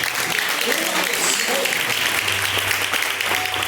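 A church congregation claps in praise during a live Pentecostal service, a dense steady wash of hands with voices and a low hum running underneath.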